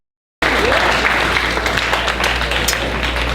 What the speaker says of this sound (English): for Miguel, give him a round of applause.